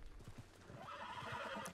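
A horse in the video game Red Dead Redemption 2 gives a whinny while its hooves clop on the ground, faint and somewhat distant, with no talk over it.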